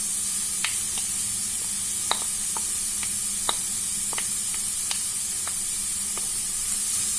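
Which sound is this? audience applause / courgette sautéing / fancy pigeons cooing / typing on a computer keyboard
courgette sautéing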